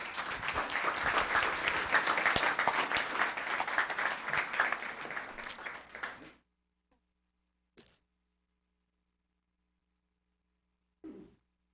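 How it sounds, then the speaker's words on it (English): Audience at a Town of Los Gatos council special meeting applauds loudly for about six seconds, then the clapping stops abruptly, leaving near silence broken by a couple of faint knocks. "Let's give her a big hand."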